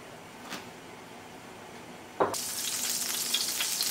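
Butter and a drizzle of olive oil heat in a pan, a quiet hiss with a couple of faint clicks before a loud sizzle suddenly bursts in and continues steadily, close by.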